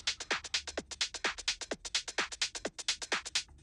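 A tight funky drum kit groove with crisp, closely spaced hits in a quick, steady rhythm, dry and close-sounding, repeating without pause and with no voices over it.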